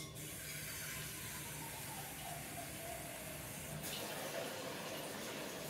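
Water runs in a soft, steady stream into a container while meatballs are being cooked, a faint, even hiss with no pauses.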